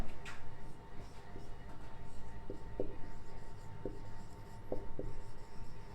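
A teacher writing notes on a board during a Class 10 physics lecture on light, faint scattered tapping strokes over a steady room hum.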